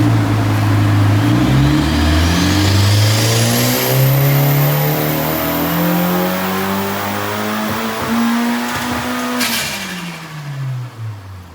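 A Honda FL5 Civic Type R engine revs hard on a dyno, its loud droning pitch climbing steadily through the gears before easing off near the end.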